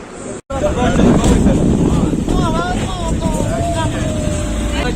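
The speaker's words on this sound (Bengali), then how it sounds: "তো চলুন আমরা স্পিড বোটে ঘুরে আসি।" A speedboat ride on the water, with a steady rushing of engine and wind noise buffeting the microphone. A voice talks over it much of the time.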